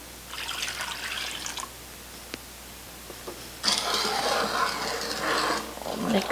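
Water poured into a pan of melted butter and sugar: two broad splashing, hissing pours, the second louder and longer, separated by a brief lull with a couple of small knocks.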